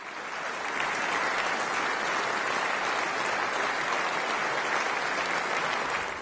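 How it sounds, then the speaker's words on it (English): Warm, sustained applause from a concert audience after a choir performance in St George's Chapel, Windsor, a dense, even wash of clapping that swells in quickly and holds steady throughout, with no talking. "After the concert, there's some warm applause."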